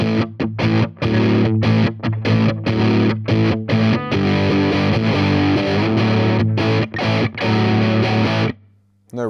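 Electric guitar played through a Sovereign distortion pedal at a mild gain setting with no reverb, loud chugging rhythmic chords broken by short muted stops, ending with a brief decaying note.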